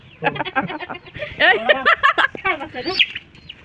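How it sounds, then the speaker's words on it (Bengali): A close chicken perched in a tree clucks and chirps in rapid, agitated bursts, fairly loud, with a brief squawk near the end. "মুরগি আছে গাছের উপরে,"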